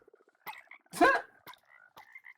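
Frogs croaking in the game Minecraft, a few short croaks spread across the moment with one louder, fuller croak near the middle, fairly close and with no talk over them.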